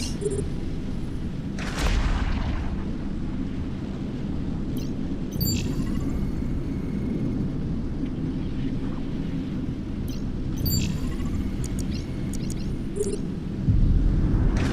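A spaceship bomber blowing up in a space combat video game, heard as a deep, steady roar and rumble that swells in places, with a few brief bright bursts rising above it.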